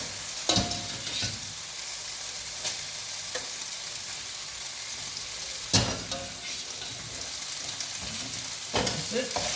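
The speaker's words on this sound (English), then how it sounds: "Now then, pasta straight in." Cooked pasta tossed and stirred into a hot frying pan with rendered fat for carbonara, sizzling and frying steadily with several sharp scraping clatters of utensil against pan, close and unaccompanied by speech.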